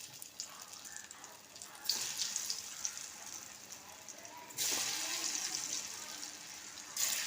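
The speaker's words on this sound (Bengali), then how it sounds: "কড়াইতে তেল দিয়েছি, তেলটা গরম হয়ে গেছে। এবার ধোঁকাগুলো ভেজে নেব।" Dhoka, Bengali lentil cakes, fry in hot oil in a wok, a soft steady sizzle that surges louder in a few bursts as pieces drop in, fairly quiet and close.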